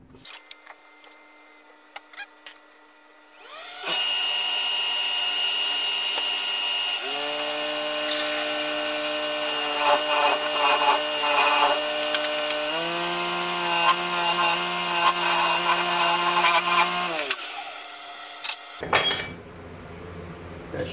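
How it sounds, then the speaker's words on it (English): A wood lathe cuts a recess into a natural-edge cigar ashtray made from a spalted log, giving a sustained, fairly loud whining drone whose pitch shifts as the tool bites, with no talking. "I'm going to go ahead and put a recess in the middle."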